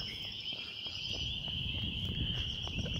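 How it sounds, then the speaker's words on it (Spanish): Crickets chirping in a park at dusk, a steady high insect trill holding throughout over low rustling and faint footsteps, fairly quiet and continuous. "A escuchar el canto de los grillos."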